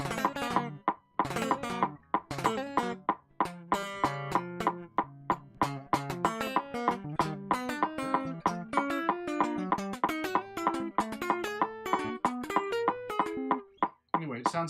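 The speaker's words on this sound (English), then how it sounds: "it helps me out more with sweep picking, which is supposed to sound like this." Quick plucked guitar notes ripple up and down in fast arpeggiated runs, each note short and distinct, played steadily for a long stretch.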